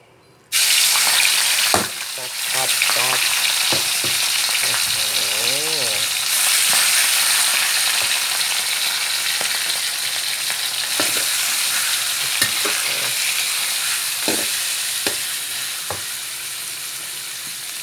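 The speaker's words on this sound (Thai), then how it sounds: "ตอนนี้กระทะร้อนได้ที่นะครับ ก็ใส่ลงไปเลยครับ นี่ครับหมูสับกับกระเทียมโทนตำใส่ลงไปได้เลยครับ" Minced pork and pounded garlic hit a hot pan with a loud burst of sizzling, then keep frying in a strong, steady hiss while a utensil stirs and scrapes now and then.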